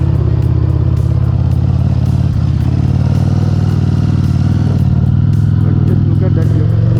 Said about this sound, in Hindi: बाइक फिलहाल थोड़ी सी हैवी हो रही है तो मेरे को 1-2 पे चढ़ानी पड़ रही है